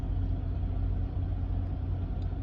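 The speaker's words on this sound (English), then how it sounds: "I'm actually by a cool Peterbilt right here." Peterbilt semi-truck engine at a truck stop, a steady, loud, close low rumble with no talking.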